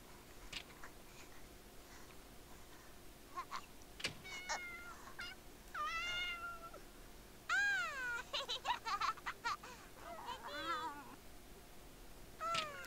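Several cat meows from The Sims 2, sounding synthetic and game-like, come in repeated bursts over a soft background hum. No one speaks.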